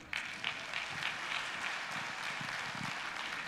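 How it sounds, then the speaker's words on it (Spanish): A church congregation gives a round of applause during a sermon, heard as a soft, distant, continuous patter of clapping in a large room, faint and steady with no speech over it. "Dar un aplauso a Cristo."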